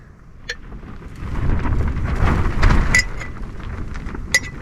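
Strong wind gusting around a tent on a warm evening, a broad rumbling roar that swells through the middle and eases off, with a few sharp flaps or clicks of fabric near the start and end, no voices.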